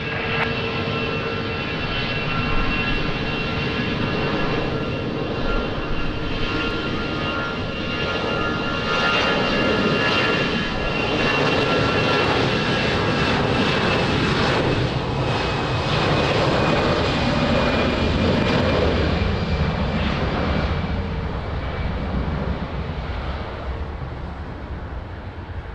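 An airliner on approach to Lisbon Airport in wind and rain roars steadily and loudly, its engine tone building and holding for nearly the whole stretch before easing slightly at the end.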